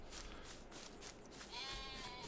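Sheep in Farm Sim 22 let out a drawn, wavering bleat partway through, over a steady farmyard ambience, soft and somewhat distant.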